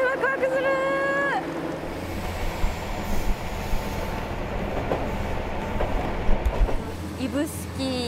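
A train on Japan's Ibusuki Makurazaki Line rolls in along a straight track, its steady rumble and rail clatter filling the scene, with a squealing brake tone early on and people chatting over it.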